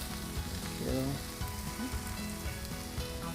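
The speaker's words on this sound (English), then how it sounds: "So now we can go ahead and add the garlic." Cabbage and garlic sizzle steadily in a hot pan, a close, continuous frying hiss with a few light stirring clatters.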